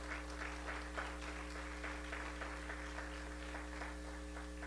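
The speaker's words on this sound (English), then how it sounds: "Give him a hand clap of praise." A church congregation claps in praise during a worship service, a steady patter of many hands heard fairly softly over a constant electrical hum, with no clear voices.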